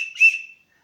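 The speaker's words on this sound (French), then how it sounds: "Sifflet." A single short, shrill blast from a small whistle built into a multi-tool pen, loud and close, fading out quickly into silence.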